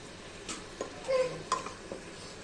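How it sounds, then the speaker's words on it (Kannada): Beans, carrots and potatoes frying in a pan for vegetable pulao, with a soft sizzle and a few stirring scrapes and clinks of a utensil, quiet and close, no talk. "ಚೆನ್ನಾಗಿ ಫ್ರೈ ಮಾಡಬೇಕು"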